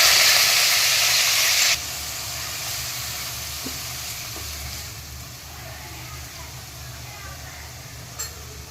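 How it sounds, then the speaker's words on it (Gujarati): Onion puree hits hot oil that was just used to fry paneer cubes, giving a loud burst of sizzling that settles into a steady, softer hiss of frying. "હવે આ જ તેલમાં ડુંગળીની પ્યુરી એડ કરી દઈશું."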